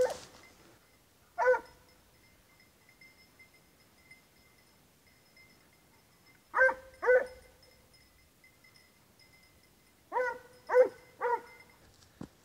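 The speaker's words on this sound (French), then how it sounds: "le chien qui arrive derrière" Hunting dog during a fox hunt, a few sharp barks and yelps in short clusters, spaced apart with quiet gaps, moderately near in an open outdoor setting; no talking.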